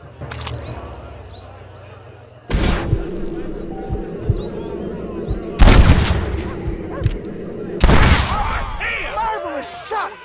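Gunshots ring out in a Western shootout in Red Dead Redemption, with several loud, sharp cracks spaced a few seconds apart and echoing tails. Voices speak between the shots over a quiet outdoor ambience with some bird calls.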